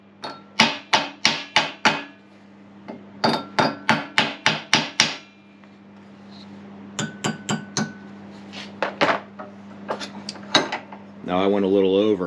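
A bent metal wiring bracket for a Ford F250 E4OD transmission is hammered flat on an anvil: loud, close metallic blows in quick bursts of four to six, separated by pauses, ending in a short stretch of rougher clatter.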